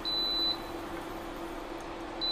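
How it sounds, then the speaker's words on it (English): A kitchen appliance beeps as a pan is lifted off it during tart making, a thin high tone sounding once near the start and again at the end over a low steady hum. "it's beeping because I've lifted it"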